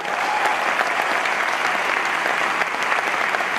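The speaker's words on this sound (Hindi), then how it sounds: "उसके लिए जोरदार ताली बजा सकते हैं।" Loud, dense applause fills a celebration hall, an even roar of many hands clapping with no break.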